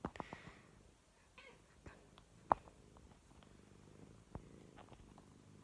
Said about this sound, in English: They meow a lot, they're just a purr machine.